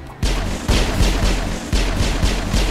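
Pistol shots in the Mass Effect video game, a series of about six loud, sharp reports spaced roughly half a second apart, each with a short booming tail.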